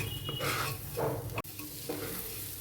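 Khichuri ingredients being stirred in a pot, a steady scraping and sizzling with one sharp knock of the spoon against the rim partway through, close and alone without any talk.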